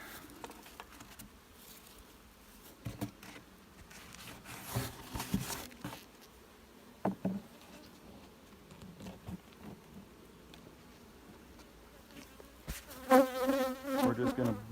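Honey bees buzzing around an opened, very weak hive during a box swap, a steady close drone broken by rustles and knocks of equipment, louder near the end.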